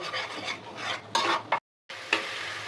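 Turmeric, salt and two bay leaves sautéed in hot oil for a fish curry, heard as close scraping stir strokes over a soft sizzle, broken by a brief silent gap midway.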